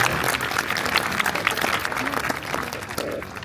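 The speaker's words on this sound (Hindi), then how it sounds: "तो एक बार इस बच्ची के लिए ताली बजाओ" Audience applause at a district-level youth panchayat event in Sirsa, a dense, steady burst of many hands clapping for a girl, filling the room at close range with no voices on top.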